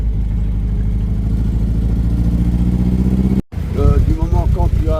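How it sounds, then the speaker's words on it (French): A Triumph TR3 roadster's 2-litre four-cylinder engine idles with a steady, loud low rumble, then carries on after a brief cut while someone talks over it. "Donc c'est un moteur 4 cylindres 4 cylindres. en 2 litres."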